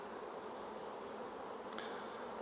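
Honey bees at a 10-frame Langstroth hive, a soft, even buzzing hum of many insects heard at low level throughout, with a brief faint tick near the end.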